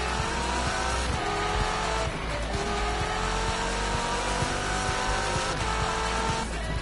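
A racing car engine in The Crew on PS4 drones loudly and continuously as it accelerates, with tire squeals cutting in along the way.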